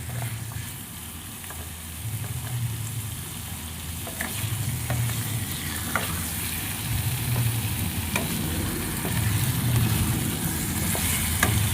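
Chicken frying in a pan over a high gas flame, a continuous close sizzle with repeated scraping stirs of a spatula throughout.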